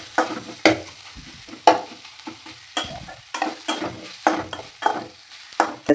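Onions and tomato sautéing in a little oil for South Indian potato masala, a steady close sizzle broken by repeated scraping stirs of a spoon against the pan, with no talking.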